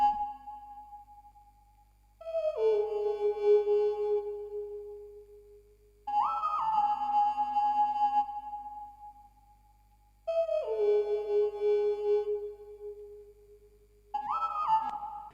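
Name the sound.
hyperpop synth lead, Lead Softy Serum preset from Adapt Volume 2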